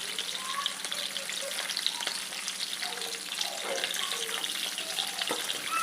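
Sliced onions hit hot oil in a pan for a Bengali rohu fish curry, giving a loud, bubbling sizzle with some stirring scrapes and no talking.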